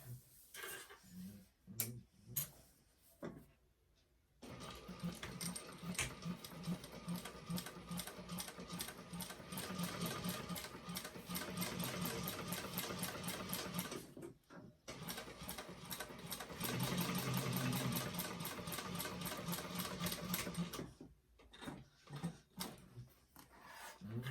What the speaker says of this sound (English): I'm going to go down and top stitch the second side, and you can see that's going to hold the seam open for us.